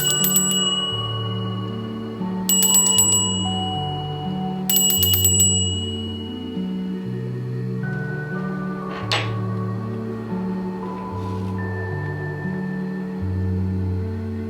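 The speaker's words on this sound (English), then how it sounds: "I'm going to do the ringing of the bell again." A hand bell rings in short, bright clusters during a haunted farm investigation, its sharp metallic strikes coming in a few separate bursts over a steady background of sustained tonal notes.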